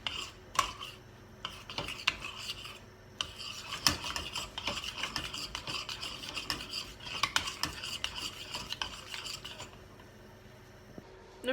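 Butter being stirred into a melted mixture, heard as a close, steady scraping and rubbing of a utensil against the bowl that runs almost without a break and then eases off near the end, with no voices.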